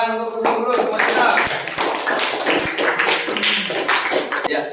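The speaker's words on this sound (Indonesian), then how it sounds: "tepuk tangan untuk Husnul Khuluq semuanya" A classroom claps hands for a student, a dense burst of clapping and tapping filling the moment with voices mixed in underneath.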